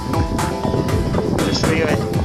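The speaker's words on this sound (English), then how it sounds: "Quite windy again today, overcast." Steady gusting wind buffets the microphone outdoors, a constant rough rumble with a few brief louder whooshes, and a voice speaking underneath.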